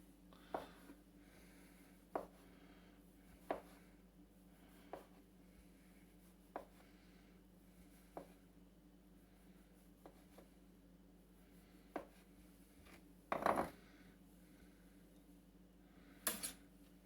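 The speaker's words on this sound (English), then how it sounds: "So let's first of all cut up the trifle. Into slices." A knife cuts sponge cake into slices for a sherry trifle, giving quiet, evenly spaced taps on the plate or board about every second and a half, with a couple of louder knocks near the end.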